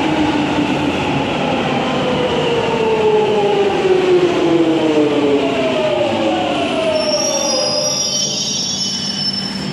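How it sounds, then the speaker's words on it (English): A London Underground Jubilee line train of about seven carriages comes out of a tunnel with a loud, steady roar and sliding, falling wheel squeals, turning to high screeching toward the end; no voices. "trains coming from the tunnel."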